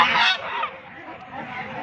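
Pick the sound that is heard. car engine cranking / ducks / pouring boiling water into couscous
ducks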